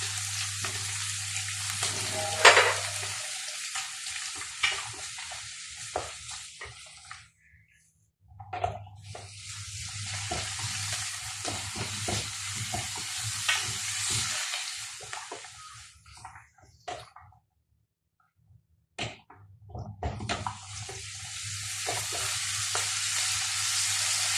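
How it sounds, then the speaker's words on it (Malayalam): Garlic, cashews and tomato sauté in a pan for chana masala, a loud close sizzle that comes in two long bursts with a near-silent gap between them and a low hum under the first part. "ശേഷം ഇതിലേക്ക് വെളുത്തുള്ളി, അണ്ടിപ്പരിപ്പ്, തക്കാളി ഇതെല്ലാം ഇട്ട് വഴറ്റാം."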